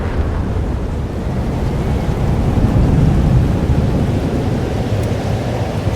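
A thunderstorm in the video game Life Is Strange: Double Exposure rumbles as a loud, continuous low roar of heavy rain and distant thunder, with no voices.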